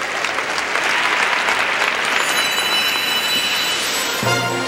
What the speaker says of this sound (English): Crowd loved it.